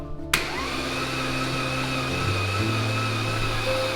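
Lamborghini Murcielago V12 engine being cranked during a rebuild of an abandoned car, a steady whirring mechanical drone that starts abruptly and holds loud and even, with a shift in pitch partway through.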